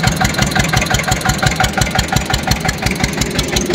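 An old Eicher tractor engine runs on a farm field, driving a belt to pump water, with a loud, close, steady diesel thump that repeats in an even rapid rhythm.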